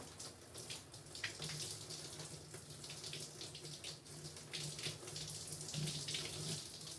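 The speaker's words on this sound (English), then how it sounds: "And then we're just going to rinse." Tap water runs steadily throughout while hair is being rinsed after an Olaplex number 0 and number 3 treatment, a continuous broadband splashing hiss at moderate level with no voices.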